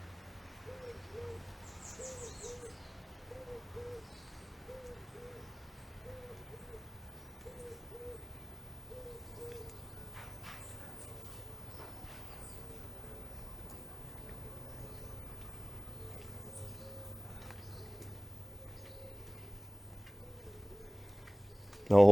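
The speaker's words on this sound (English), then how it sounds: "I'm just going to let you enjoy the sounds of the birds" Birds calling outdoors at daybreak in Holetown, Barbados, with a steady series of repeated hooting notes over a low background rumble, moderately near and continuous without talk.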